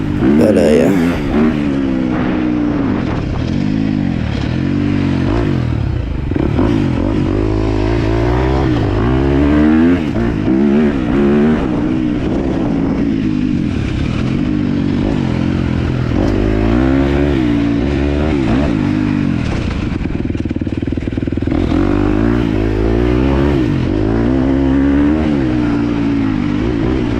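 A KTM 250 XCF dirt bike revs and accelerates repeatedly through turns, its engine loud and close throughout with rising and falling pitch as the throttle opens and closes.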